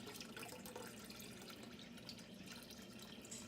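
Priming sugar solution poured into a batch of beer for bottling gives a continuous soft trickling, splashing liquid sound, close and fairly quiet, without any talk.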